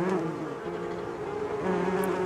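A dense swarm of wasps buzzes loudly and continuously, a thick droning hum filling the space with no pauses and no voices, close and overwhelming like a sound effect in a horror story.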